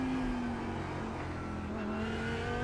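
A race car engine drones at high pitch during practice for a 12-hour race at Silverstone, its tone sliding as it passes at a distance, steady and loud throughout with no talking.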